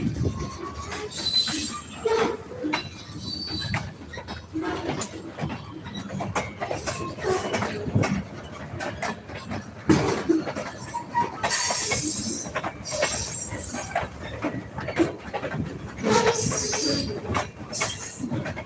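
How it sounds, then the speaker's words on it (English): A train rolls past on the rails with a steady rumble and clatter, wheels squealing at moments, swelling and fading over about nineteen seconds as it moves away, with someone talking briefly and birds faint in the background. "We'll watch this train go away."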